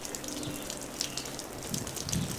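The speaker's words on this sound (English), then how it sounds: "I've just turned the water on, and you can see how the water cascades down the glass." Water from a water-fed window-cleaning brush cascades down glass, a steady close splashing rinse with brief spatters and brush scrubbing on top.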